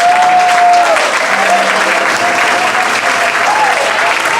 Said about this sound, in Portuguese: dê uma forte salva de palmas ao Rei dos Reis